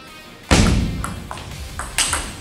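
Table tennis ball striking a racket in a backhand power drive, a sharp loud ping near the start followed by several fainter taps and a second crisp hit, with no talking.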